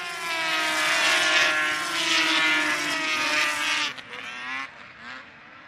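Race cars roar around a frozen pond track at Grey Eagle, Minnesota, a loud, harmonic engine drone passing close by, then dropping away as the cars move off.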